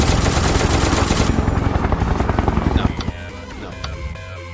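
Helicopter rotor chop mixed with rapid machine-gun fire in a video game, a dense, loud, continuous roar that thins out after about three seconds, leaving lighter scattered game noises.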